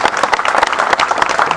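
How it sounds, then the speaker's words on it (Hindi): A crowd at a BJP election campaign rally in Delhi claps loudly and continuously, a dense, close wash of applause that holds steady throughout. "ऐसे हमारे उमंग बजाज जी को जोरदार तालियां बजा करके इनको अपना आशीर्वाद दीजिए।"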